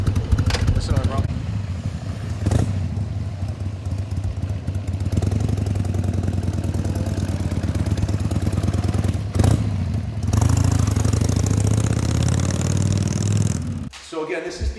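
A 2001 Harley-Davidson Sportster XLH883C, an 883 Custom, idling nearby with a steady loping, clattering V-twin beat that briefly revs before cutting off near the end, with someone talking over it.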